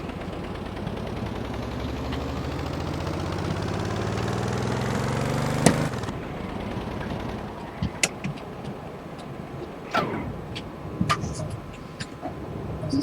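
Vehicle engine in the game Stormworks, a steady low mid-range rumble with rising harmonic sweeps as it tries to start, then a sharp click and cutoff, leaving quieter clunks and brief knocks.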